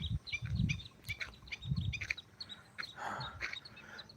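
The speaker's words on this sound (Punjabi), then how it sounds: "ਪੰਛੀਆਂ ਦੀਆਂ ਆਵਾਜ਼ਾਂ ਤੁਹਾਨੂੰ ਸੁਣਾਉਣੇ" Small birds chirp and tweet in rice paddy fields in a Punjab village near Bathinda, giving scattered high calls over soft outdoor rumble and low bumps, with no talk.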